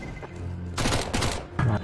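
Gunfire bursts in Counter-Strike: Global Offensive, rapid loud shots in a few clusters over steady game background noise.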